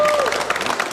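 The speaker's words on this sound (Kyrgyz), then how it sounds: "Бир катуураак кол чаап коелу анда." Studio audience applause on a Kyrgyz dating show, a brief dense burst of clapping from a crowd, with a voice and a sliding tone audible over it.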